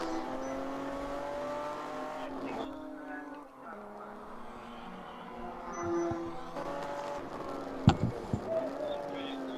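Race cars at a ChampCar endurance race close together and braking into turn 1 at Oak Tree, engines droning steadily at moderate distance with rising and falling revs, commentators talking over the track noise.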